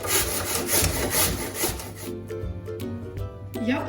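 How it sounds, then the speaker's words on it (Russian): Peeled apples rasped against a coarse grater in fast, even rubbing strokes, dense and close for two seconds, then slower scraping strokes with pauses after. "Почищенные яблоки потрем на крупной терке."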